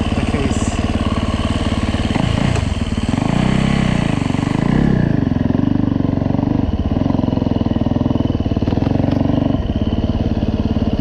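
A cold Yamaha dirt bike engine idles loudly and close in the snow. The pitch rises and falls with a few revs and the mechanical clatter carries steadily throughout.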